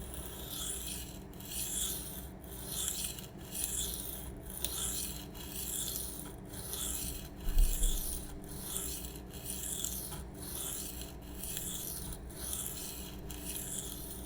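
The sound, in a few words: freehand sharpening a Spyderco Sage 5 knife blade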